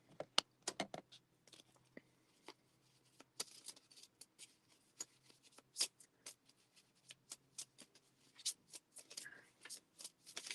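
Tarot cards being shuffled close by in quick crisp bursts separated by short pauses, soft riffling and flicking at low level with a voice faintly present in the background.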